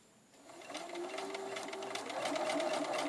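A sewing machine runs alone, close and steady, stitching a line along a patch-method bound buttonhole, its motor whirring with a fast, even needle rhythm.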